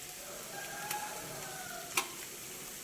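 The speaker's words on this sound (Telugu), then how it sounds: "ఈ అల్లం వెల్లుల్లి పేస్ట్ కూడా కొంచెం వేగాలి" Ginger garlic paste frying with onions in a pan, a quiet steady sizzle broken by two sharp spoon taps.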